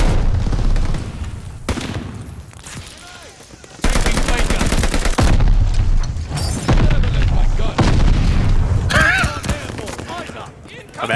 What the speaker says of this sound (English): let's get a glide bomb